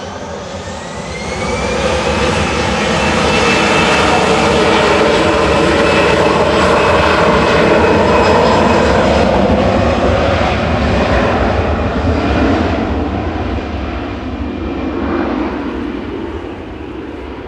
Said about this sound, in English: EasyJet departing to Rhodes in front of us,